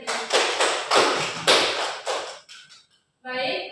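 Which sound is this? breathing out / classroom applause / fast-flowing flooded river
classroom applause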